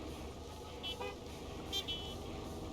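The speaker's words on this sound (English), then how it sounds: "I hear someone honking." A car horn honks in the game Gas Station Simulator, two short toots a second apart that sound fairly distant over a low background hum.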